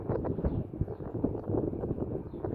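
Wind buffets a microphone on a train platform in Zonguldak, Turkey, producing a steady low rumbling roar with gusty surges throughout.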